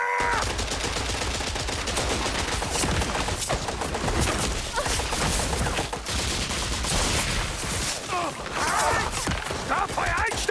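Dense gunfire rattles through a cutscene of the Indiana Jones Great Circle video game, with bursts of automatic shots and scattered single reports continuing throughout. Loud shouted voices call out over the shooting.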